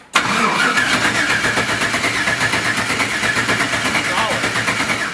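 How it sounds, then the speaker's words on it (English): A Mazda RX-7 fitted with an 8-rotor engine cranks over after two years unused, a loud, close, rapid pulsing starter rhythm that runs for about five seconds without catching. "Yeah, so it does crank."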